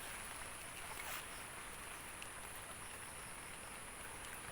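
Steady rain hisses down in strong wind, a dense broadband wash with no breaks, heard alone and without voices.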